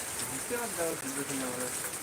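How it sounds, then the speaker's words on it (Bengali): Steady rain falls as a constant broadband wash, with people talking over it close by. "এই বৃষ্টি যে শুরু হয়েছে"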